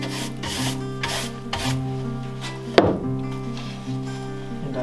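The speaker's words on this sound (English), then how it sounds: "I'll clean up the dust a little bit here." Timber gets its dust brushed off in a series of quick, close rubbing sweeps, followed by a sharp knock, over steady tonal background music.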